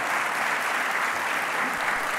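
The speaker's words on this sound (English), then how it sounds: "please a big applause for Annalisa Boni." Steady applause from a conference audience, dense continuous clapping that fills the room evenly from start to finish with no voices over it.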